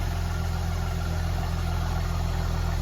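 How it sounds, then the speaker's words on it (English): A Mercedes E400 convertible's engine and exhaust burble at a steady idle, a low, even droning note heard nearby and without any voices. "listen to that exhaust note"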